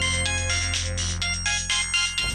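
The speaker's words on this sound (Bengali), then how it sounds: "এখন আবার কে ফোন করলো?" A phone ringtone plays loudly and close, a repeating melodic electronic tune sounding alone in a Bengali TV serial scene.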